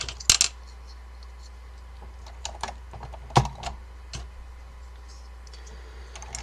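Restored Focus FK-2001 keyboard with Alps mechanical switches, close and fairly quiet, with irregular bursts of crisp clicky keystrokes and a few louder clacks against a quiet background.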